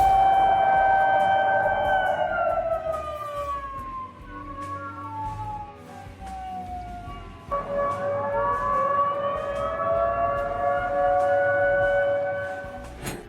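A long, rising and falling air raid siren wails steadily during a nighttime drone attack in southern Russia, its pitch sliding down and then climbing again, heard at a distance over background noise.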